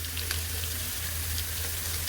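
Ginger garlic paste frying in a pan, a close, even crackling sizzle with a low steady hum beneath it and no talking.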